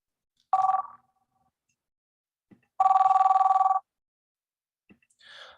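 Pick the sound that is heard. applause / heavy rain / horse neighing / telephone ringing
telephone ringing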